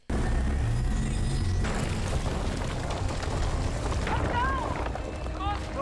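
A cannon blast in the animated film Nimona sets off a loud, sustained booming rumble that starts abruptly and fills the whole stretch, with voices talking over it.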